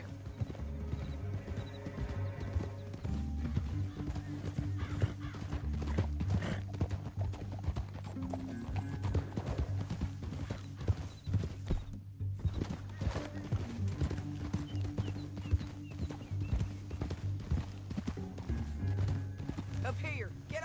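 Horse hooves clip-clop steadily over a long stretch in Red Dead Redemption 2, with an occasional whinny and some talking mixed into the game soundscape.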